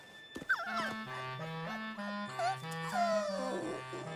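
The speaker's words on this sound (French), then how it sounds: "Nos petits chiens n'ont pas l'air dans leur assiette." Small cartoon dogs whimpering in Charlotte aux Fraises: high, wavering whines and yips alongside a stepping musical melody that plays continuously, close and fairly loud.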